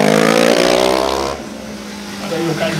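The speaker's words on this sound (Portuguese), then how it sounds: "O Caio faz o giro, já sai com a moto empinada" A Honda stunt motorcycle revs hard as the rider pulls away on the back wheel at a freestyle show, a loud rising engine whine that drops off midway while an announcer talks over it.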